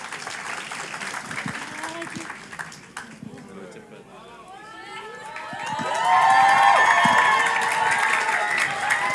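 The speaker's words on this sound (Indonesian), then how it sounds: "Berikan tepuk tangan yang meriah." A conference closing-ceremony crowd applauds and cheers, the clapping building from a scattered patter into a loud, sustained wave of applause with shouts and whoops, while a host speaks over the first part.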